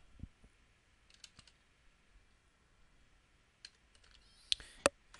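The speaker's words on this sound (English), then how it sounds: "here I'm going to type in my username" Sparse, faint clicks of keys on a computer keyboard as a username is typed, quiet and scattered over a low room hush, with a couple of sharper taps near the end.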